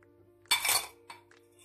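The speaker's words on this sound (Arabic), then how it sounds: "غادي نحركو لمده دقيقه وحنا كنحركو فيه باش هذيك القرفه تنسم مع اللبن" A spoon clinking against the side of a pot while stirring milk with cinnamon, one bright metallic clink followed by a couple of lighter taps, close and short.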